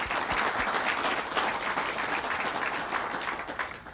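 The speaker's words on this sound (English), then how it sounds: "Let's give Dave a round of applause, please." An audience at an institutional all-hands meeting claps steadily in a dense burst of applause that stays fairly loud throughout.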